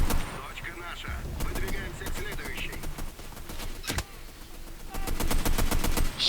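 Repeated bursts of automatic machine gun fire in the WW2 shooter game Enlisted, rapid cracking shots in several volleys with short gaps, loud and close amid battle noise.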